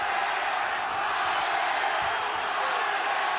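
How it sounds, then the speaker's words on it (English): A boxing arena crowd at a 2006 fight between Marco Antonio Barrera and Rocky Juarez roars continuously, a dense wash of cheering and chanting for both fighters that stays loud and steady throughout. "There's tremendous energy in the crowd for both fighters. We're hearing dueling chants."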